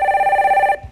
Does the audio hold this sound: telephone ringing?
yes